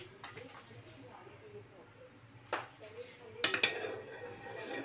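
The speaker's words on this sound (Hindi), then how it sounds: "अभी हम अपना चम्मच चलाते जाएंगे।" A spoon scrapes and clinks against a pot of boiling ice cream mixture with cardamom, producing scattered metallic taps and scrapes, close and moderately quiet, over a low background murmur.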